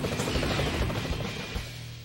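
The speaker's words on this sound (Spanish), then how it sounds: "Los helicópteros." Helicopter rotor noise in the Spider-Man PS1 video game, a steady low chopping drone over about two seconds, fairly loud and alone.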